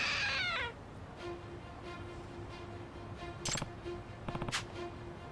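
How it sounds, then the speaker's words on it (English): A trick statue in Lost Judgment lets out a cat-like meow, first as a fairly loud cry and then as short faint meows and rattling clicks over a quiet hum. "It meowed. So it's a trick statue."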